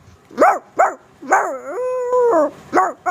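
A voice imitates a dog, giving a few short sharp barks, then a long drawn-out howl, then more quick barks, close and loud with no other sound.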